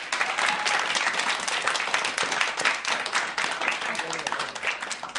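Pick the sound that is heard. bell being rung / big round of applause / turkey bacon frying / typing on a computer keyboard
big round of applause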